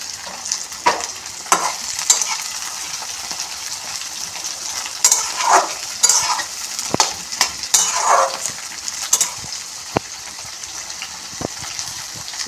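Onions stirred and fried with spices in a pan, crackling sizzle broken by repeated spatula scrapes and clinks, with occasional louder bursts of spitting oil, close and uneven in rhythm.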